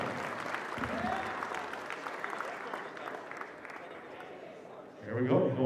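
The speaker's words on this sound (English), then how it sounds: "Let's give Tony a round of applause on the phone." Applause from an auction audience forms a steady wash of clapping under a voice, then a louder patch of talking and noise comes in near the end.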